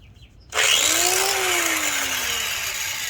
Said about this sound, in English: we're going to take our angle grinder.